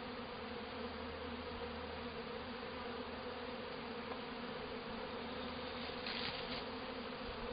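Honey bees swarm around an opened hive during spring inspection, a close, steady, droning buzz that fills the whole stretch without pause or talk.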